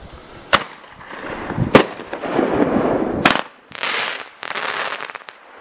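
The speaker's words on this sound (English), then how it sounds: "Time for another pyro challenge. This is ball shells." Pyrotechnic ball shell fireworks firing outdoors, several sharp launch thumps and bangs followed by long crackling, hissing bursts that fade and return, loud and fairly close.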